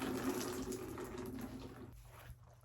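Water drips and trickles as a washed vintage Juicy Couture top with rhinestones is gently squeezed out by hand, a steady close splashing that fades away near the end, with no talking.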